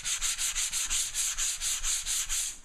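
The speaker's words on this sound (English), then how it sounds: "you hold on to the sandpaper" Sandpaper held by hand is rubbed along the grain of a coated bathroom surface between coats, about a dozen quick, even back-and-forth strokes in a steady rhythm, close and clear, with no talking.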